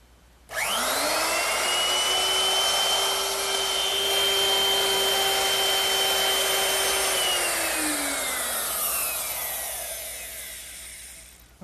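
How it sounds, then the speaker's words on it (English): A router fitted with a straight cutting bit and a fence cuts a tongue along a wooden board. It spins up to a loud, steady whining roar, holds through the pass, then slowly winds down, with no talk. "I'm going to use my router with a straight cutting bit and a fence"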